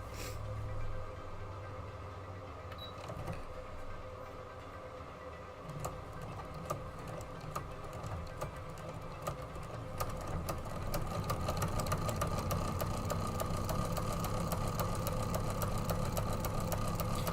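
A sewing machine quilting a project, running with a rapid steady mechanical whir and fine ticking that builds louder and denser in its second half, close up with no talking.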